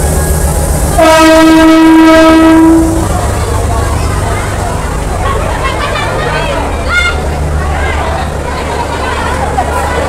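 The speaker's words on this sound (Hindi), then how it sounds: "नेपाल ट्रेन जो है वो जनकपुर धाम रेलवे स्टेशन पे पहुंच चुकी है" A Nepal railway train sits at Janakpur Dham station, its horn blaring loudly for about two seconds over rumbling engine noise and the murmur of a busy crowd on the platform.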